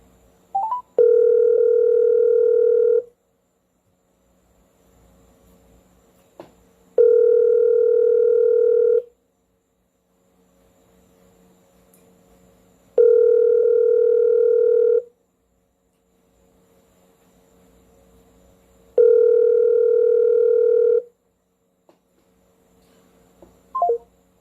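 A phone call being placed: four steady dial-tone or ringback bursts of about two seconds each, evenly spaced several seconds apart, with brief faint clicks at the start and end and no talking.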